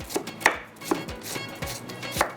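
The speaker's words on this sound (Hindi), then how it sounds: "बारीक बारीक आपने काट लेना है।" A knife finely chops tomatoes with a run of close, uneven taps against a cutting board, with no talking.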